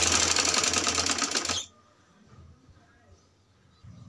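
A sewing machine stitching along the fold of a trouser, a fast, close, rattling whir that runs for about a second and a half, then stops abruptly into near quiet.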